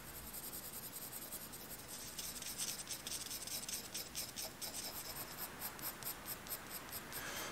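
Graphite pencil shading on paper while a rose is drawn, a soft continuous scratchy rubbing with quick back-and-forth strokes, close and quiet, no talking.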